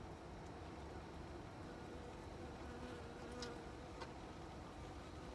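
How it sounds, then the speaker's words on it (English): A bee buzzes around food being cooked outdoors, a faint thin drone that rises briefly as it passes near, heard over a low steady background hiss with no voices. "Okay, we're also attracting bees."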